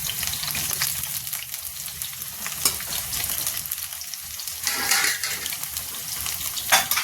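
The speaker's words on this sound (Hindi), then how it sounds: "और आलू के साथ साथ ये भिंडी भी फ्राई करेंगे।" Okra and potatoes sizzle steadily in hot oil, a dense continuous crackle with occasional stirring scrapes from a utensil, close and without talk.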